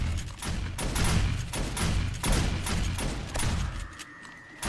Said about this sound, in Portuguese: Tem muita arma tirando